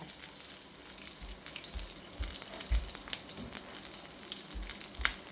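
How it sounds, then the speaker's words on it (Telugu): Garlic sizzling in hot oil as a tempering for vegetable sagu, a steady soft crackle and hiss with faint pops, quiet and unbroken with no talk. "వెల్లిపాయలు కొంచెం దీంట్లో నూనెలోనే మగ్గిపోతుంది"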